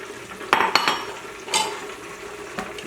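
A spoon stirs Bang Bang Shrimp sauce in a pan, giving a few scraping clinks against the metal, with clusters near 0.5, 0.8, 1.5 and 2.6 seconds over a quiet kitchen background.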